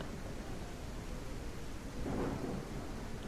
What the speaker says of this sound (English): The storms and the rain is just unbelievably loud.